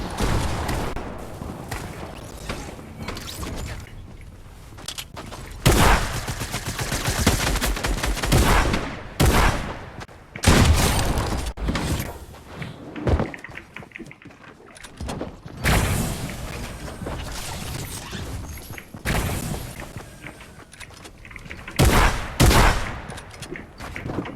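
Rapid gunfire in the video game Fortnite, with repeated bursts and clustered shots breaking over a quieter background, some sharp and loud, others more distant.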